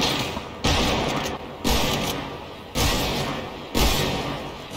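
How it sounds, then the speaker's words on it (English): Fortnite gunfire: four heavy booming shots spaced roughly one second apart, each with a long decaying tail, loud and close, no talk over it. "there's someone shooting at me"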